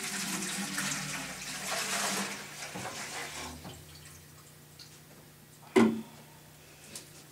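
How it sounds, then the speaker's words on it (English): Water pours into a mixing cup for a two-quart batch of mix, a steady splashing stream over the first few seconds that thins to a faint trickle, followed by a single sharp knock or clunk near the end. "I prefer to pour the water first, so that way you don't get the clumps down at the bottom if you add the mix after."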